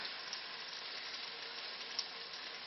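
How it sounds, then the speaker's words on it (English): Steady, fairly faint sizzling of food sautéing in a wok for a beginner's Asian stir fry, continuous hiss with a couple of small pops and no voices. "This is called sautéing"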